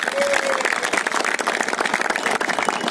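Audience applause at a political rally, a dense continuous patter of many hands clapping at steady loudness for the whole stretch, with a brief voice or whistle tone near the start.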